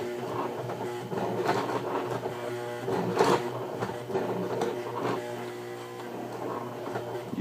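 A Baby Lock BL9 sewing machine stitches slowly through leather, a steady close mechanical whir with a faint clatter running for several seconds without speech.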